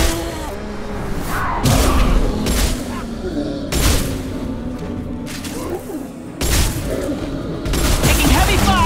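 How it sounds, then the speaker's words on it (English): Heavy gunfire and booming blasts from a Mass Effect 2 firefight on Horizon, loud repeated bursts with sharp impacts and whooshes throughout, with voices in the mix. "Taking heavy fire!"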